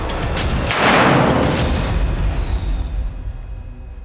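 A single loud boom of a black powder gun firing a 46-grain Wezuwit powder charge at the start, followed by a long fading rumble and echo outdoors.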